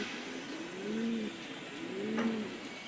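Racing pigeons coo softly in two rising, rolling calls about a second apart, near but fairly quiet, with faint background hiss and no talking.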